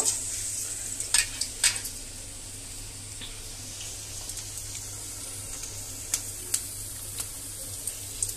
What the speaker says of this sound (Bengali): এভাবে হাতের সাহায্যে নিয়ে আমি গোল গোল করে এই গরম তেলে আমি এখন ছেড়ে দিব।